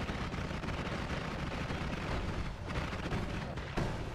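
Dense, continuous gunfire and explosions from sniper fire in the video game Noita, loud and sustained with sharp cracks throughout and no talking.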